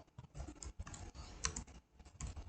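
Typing on a computer keyboard while coding an Android app in Android Studio: quick, uneven bursts of close, crisp key clicks with short pauses between runs, with no voices.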